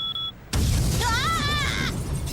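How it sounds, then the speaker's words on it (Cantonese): An explosion in an anime episode breaks in as a sudden loud boom after a brief quieter moment, followed by a sustained rumbling blast while a high wavering cry rises over it. "啱啱聽到嘅爆炸聲同叫聲"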